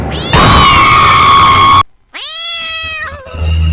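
A cat meows twice in a spooky horror-story scene, a long loud drawn-out cry followed after a brief pause by a shorter wavering meow, close and clear with no talking.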